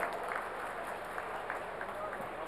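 Applause at a mega job fair in Indore: a steady, moderately distant patter of many hands clapping throughout the short stretch, with faint crowd murmur beneath.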